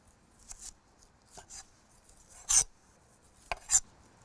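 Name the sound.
peeling the outside of a vegetable with a knife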